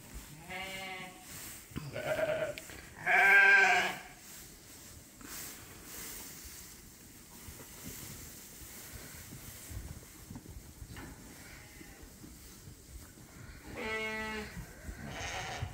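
Sheep and replacement ewes bleat at hay feeding time on a farm, a few loud close calls near the start with one strong bleat, then quieter stretches and another bleat near the end.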